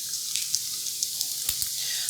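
Bacon crisping in a pan, a steady bright sizzle and hiss with scattered faint pops and crackles running throughout at an even level.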